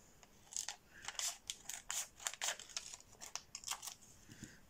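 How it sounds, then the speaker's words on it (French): Scissors snipping through vellum paper, a dozen or so quick crisp cuts in an uneven rhythm, close and fairly quiet with nothing else around. "je vais d'abord le découper pour pas gâcher tout mon vélum"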